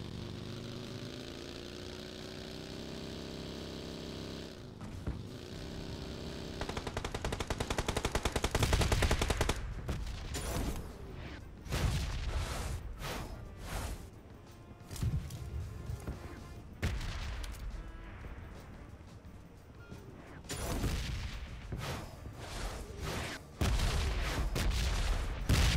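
Bursts of automatic fire from a Beryl rifle in PUBG, loud rapid volleys broken by short pauses over an idling vehicle engine, with a steady hum at the start before the shooting begins.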